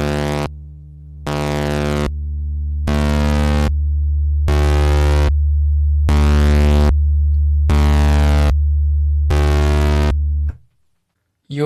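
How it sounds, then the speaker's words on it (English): A synthesizer tone is switched on and off by a square-wave LFO, giving seven loud sustained bursts separated by abrupt silent gaps in a steady regular rhythm, followed by a brief pause. "if we change the wave to a square wave, this will be more of a switching kind of sound"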